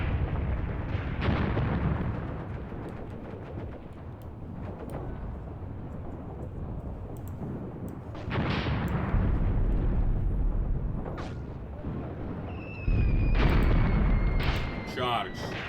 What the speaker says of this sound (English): You can see those mortars really causing some casualties amongst the Germans.